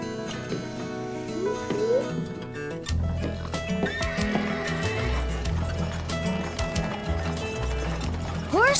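Horses neigh and whinny loudly, with steady hooves clopping underneath as they trot along, the whinnies rising over the rhythmic hoofbeats.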